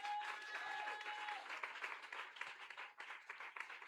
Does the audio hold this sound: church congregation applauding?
yes